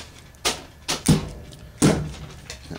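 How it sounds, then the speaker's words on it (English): A plastic pet door flaps repeatedly as dogs push through it outdoors, several sharp clattering knocks spaced irregularly, fairly close, with a faint background hum between them. "That noise is doggy door"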